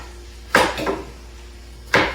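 A knife chops through potatoes on a cutting board, two sharp, close thunks about a second and a half apart, with a softer knock between them and quiet surroundings.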